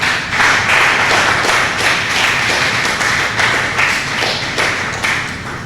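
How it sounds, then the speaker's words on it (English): Applause and clapping from an audience at a fundraising meeting, honouring Chef Ivan. Dense, steady clapping from many hands, loud and sustained for several seconds, with no talk over it. "give a strong round of applause for my friend for almost 20 years, Chef Ivan"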